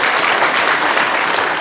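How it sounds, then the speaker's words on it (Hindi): Loud, dense applause from an audience of police and health department staff in a hall in Darjeeling, a close, continuous wash of clapping throughout with no talk. "तालियां तालियां।"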